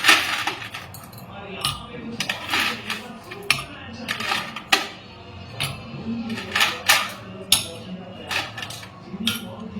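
Ice cubes clink into glasses for grape juice, a close run of irregular sharp chinks and clatters spread over several seconds, with some faint background voices.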